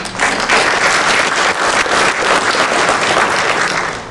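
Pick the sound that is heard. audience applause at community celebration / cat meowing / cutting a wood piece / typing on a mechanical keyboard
audience applause at community celebration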